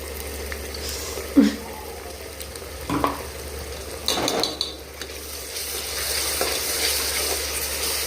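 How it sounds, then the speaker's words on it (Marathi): Ground masala paste fries in oil for a dhaba-style chicken curry, a steady close sizzle broken by a few scrapes and clinks of a stirring utensil against the pan. "मस्त फ्राय होऊन द्यायचं आपल्याला तेल येईपर्यंत"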